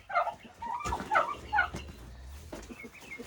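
A turkey hen calls on a farm near a duck-fouled water trough, giving a few short, close, throaty bursts of clucking and yelping with brief pauses between them.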